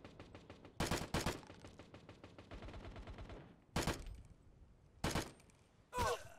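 Gunfire in the shooter video game Tip Of The Spear: several sharp, loud isolated shots spaced apart, with a stretch of rapid automatic fire in between.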